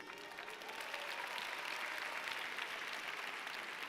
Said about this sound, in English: I don't know if you are clapping